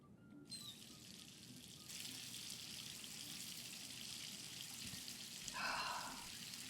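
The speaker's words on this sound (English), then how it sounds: "Man, this hot water's going to feel so good." In Life is Strange 2, hot water runs from a tap as a steady broadband rush that starts after a brief pause and fills the space, with a brighter splash near the end.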